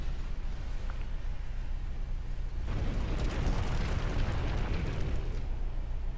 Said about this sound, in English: that explosion was the solar plant